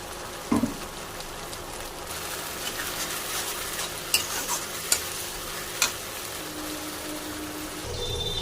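Spice paste goes into onions fried until red in a pan for a homemade chicken curry, a steady loud sizzle with a sharp splash at the start and several scraping stirs, no talking.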